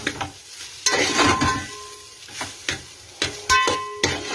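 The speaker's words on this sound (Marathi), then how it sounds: "आता मीठ टाकलेला भात या फोडणीवर टाकून घ्यावा आणि असा परतून घ्यावा." Salted rice stirred into a spiced oil tempering for masale bhat, with repeated scraping strokes of a spoon against the pan and soft sizzling between them, close and irregular.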